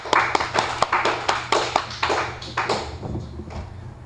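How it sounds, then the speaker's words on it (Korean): Applause from students in a technical drawing class, a short burst of sharp, uneven claps, close and loud, fading out over a few seconds with no talking. "박수."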